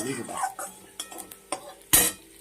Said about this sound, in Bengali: তেলটা গরম হয়ে আসছে গোটা কয়েকটা মেথি দিয়ে দিচ্ছি